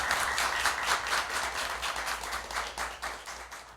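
An audience at a school quiz show applauds the two competing teams, a dense, steady round of clapping that carries on throughout and tapers slightly at the end.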